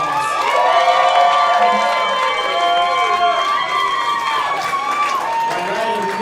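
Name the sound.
audience applause voting for Hannah in roast battle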